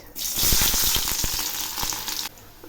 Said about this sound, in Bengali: এবার আমি দিচ্ছি থেতো করা কয়েকটা রসুন আর ঝুরি করা একটা পেঁয়াজ